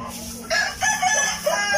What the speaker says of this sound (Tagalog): Pinaghalo-halo na niya ang heritage at saka mga pansabong.